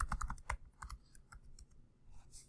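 Keys clatter on a computer keyboard as a password is typed to log in to an account, a quick burst of close, crisp clicks followed by sparser, softer taps and a brief pause, with no voices.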